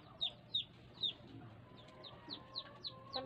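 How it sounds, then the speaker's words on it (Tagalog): Chickens cluck in a series of short, sharp, evenly spaced calls, moderately close against quiet rural background noise. "Yung mga manok nila rito guys, kumakan pa."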